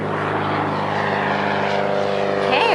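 A propeller airplane takes off down a runway, its engine drone steady and loud throughout, growing slightly louder toward the end, with no talk over it.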